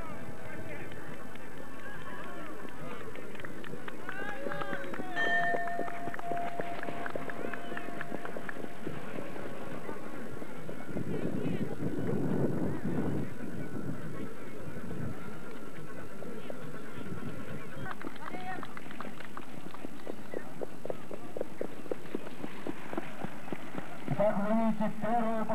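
Horses trot and gallop in a race for two-year-old trotters, rhythmic hoof clatter running throughout under a loudspeaker announcer's continuous commentary.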